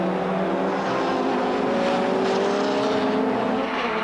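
Onboard a BTCC touring car driven by Andy Rouse in a 1990 race, the engine drones steadily and loudly at high revs throughout, with no break in the sound.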